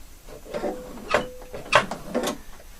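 A sewing machine stitching a sleeve with a slit and bias band makes a few short, separate mechanical whirs and clicks with brief pauses between them, close and moderately loud.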